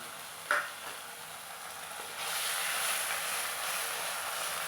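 Hilsa fish roe frying in oil, a soft steady sizzle that swells after a sharp clink near the start and then continues as a broad hiss.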